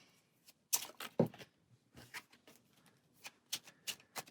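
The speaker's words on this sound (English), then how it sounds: "So we're going to get 2 of those cards and then shuffle those in here." Playing cards from the Aeon's End: Into the Wild board game being shuffled into a deck, heard as a few brief, crisp riffling bursts separated by quiet pauses, close and fairly soft.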